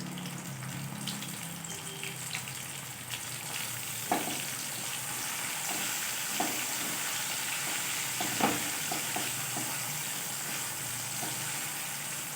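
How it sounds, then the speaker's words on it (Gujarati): Chopped tomatoes going into browned onions frying in oil for a mixed dal, a quiet steady sizzle with a few soft stirring knocks and scrapes, no talking. "હવે આપણી ડુંગળી લાલ થઈ ગઈ છે પછી આપણે નાખી દઈશું ટામેટાં"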